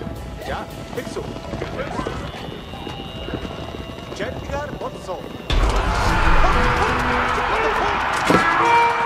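Mongol Mangudai horse archers gallop at the Battle of the Kalka River in Age of Empires 4. Rapid hoofbeats clatter beneath a narrating voice, then surge louder and denser partway through.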